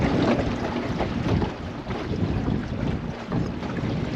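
Motorboat cruising on Lake Eucumbene, a continuous rumbling drone mixed with heavy wind buffeting and water rush, loud and close throughout with no talk.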